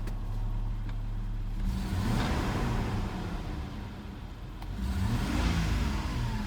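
A fuel-injected 1990 Toyota Crown hearse engine catches after a short crank and settles into a steady, quiet idle, with a low, even hum up close and no talking.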